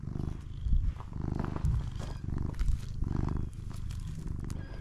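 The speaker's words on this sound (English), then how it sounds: "I guess Mr. Jingles been a pretty good cat" A domestic cat on a porch purrs close up, a steady rhythmic rumble that swells and fades with each breath, with no other sounds.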